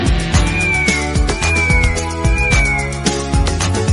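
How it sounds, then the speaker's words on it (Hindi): Meows, sung as part of a Hindi children's rhyme, rise over a musical backing, repeating in a rhythmic pattern, loud and close. "मुझे बिल्ली ने जगाया, बोली म्याऊ म्याऊ म्याऊ।"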